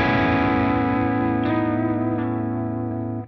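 Electric guitar played lightly through a Victory V4 preamp pedal, giving a pushed clean tone: a single sustained chord ringing with rich harmonics, two gentle re-picks partway through, then a quick fade.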